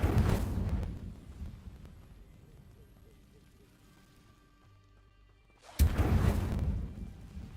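Incendio fire spell cast in the Hogwarts Legacy video game, two loud whooshing fiery bursts at the start and near the end with a quiet lull between.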